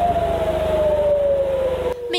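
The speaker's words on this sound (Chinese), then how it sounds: "特拉维夫却是再度响起空袭警报" An air raid siren wails in Tel Aviv, one long, loud, slowly falling tone held steady for about two seconds before cutting off, over a low background hum.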